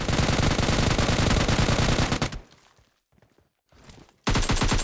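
Rapid bursts of automatic gunfire in the video game PUBG Mobile Lite rattle loudly for about two seconds, pause into near silence, then another burst erupts abruptly.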